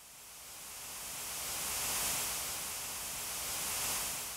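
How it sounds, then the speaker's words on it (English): A broad hiss of stereo-panned synthesized noise swells gently and recedes, bright and airy, with a slow sweeping movement and no other sounds. "I could also make this in stereo, so I can increase the stereo width, and now we're gonna get sort of a panned noise"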